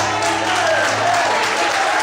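A church congregation applauds, a loud, dense wash of clapping with a faint tonal hum underneath, steady and unbroken.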